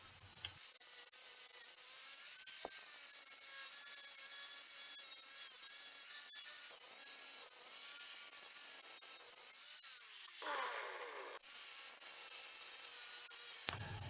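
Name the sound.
wire wheel removing paint from metal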